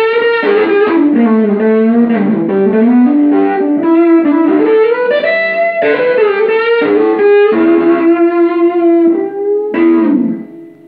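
Electric guitar on the treble pickup with the bass tone cut, playing a continuous loud, bright, slightly distorted melodic line of bends and sustained notes that ends abruptly.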